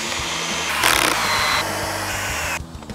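A power drill drives a screw into wood while a kids' playhouse is built, a whirring motor with a rhythmic low pulsing and a louder burst of strain partway through before it cuts off near the end.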